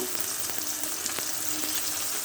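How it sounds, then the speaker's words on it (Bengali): Onions frying in a pan for a dried fish curry, giving a steady close sizzle with faint scraping and stirring sounds, and no talk over it. "পেঁয়াজগুলোকে আমি লাল লাল করে ভেজে নেব"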